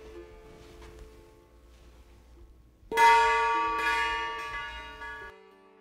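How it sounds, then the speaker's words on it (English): A struck gong at a speed dating event rings out with one bright, loud hit and then a long shimmering decay that slowly fades over a few seconds, preceded by a faint sustained tone. "When I ring the gong,"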